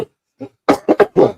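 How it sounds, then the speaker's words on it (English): A man with a lingering cough lets out a soft throat sound, then a quick burst of three or four close, loud coughs with no talk. "Still got a little bit of a cough"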